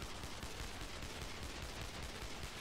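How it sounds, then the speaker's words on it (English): Steady rapid gunfire from a penguin shooting video game, a dense continuous rattle of shots filling the whole stretch at an even, moderate level. "This guy keeps shooting, just keeps shooting."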